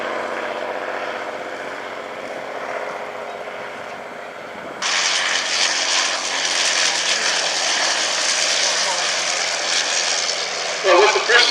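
Avro 504K biplane coming in to land at a heritage airshow, a steady aircraft drone that steps up sharply in loudness midway and holds broad and fairly near, with crowd or commentary sounds mixed underneath.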